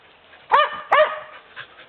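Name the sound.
puppy barking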